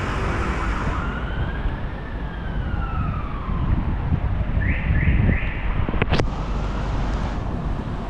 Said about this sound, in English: Kind of paying attention to that siren,